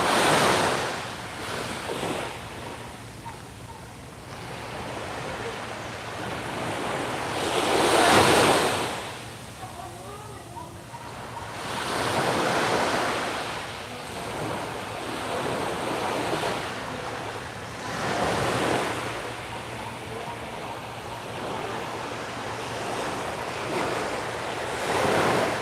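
Strong ocean waves surge and crash in repeated loud swells, with heavy wind buffeting the microphone throughout.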